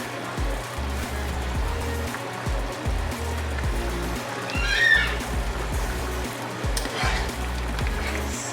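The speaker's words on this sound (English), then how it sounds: "now that it's came to a boil, I'm gonna just mix it around" A spoon scraping and stirring through boiling soup with shell pasta and ground beef in a pot, bubbling liquid under repeated clinks and swishes at a close, fairly loud level with no talking.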